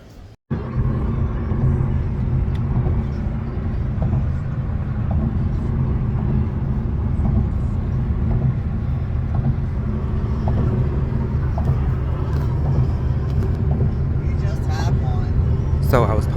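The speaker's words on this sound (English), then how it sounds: "we're back in the car now" A steady, loud low rumble of road and engine noise fills the cabin of a moving car, continuous throughout after a brief quiet start, with faint sounds from inside the car.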